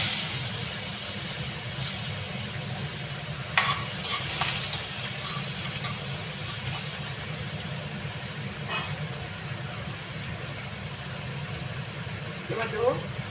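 Garlic sizzles in a pan with cinnamon and cardamom for egg kasha, a steady frying hiss with a few sharp clinks of stirring, and someone talking over it.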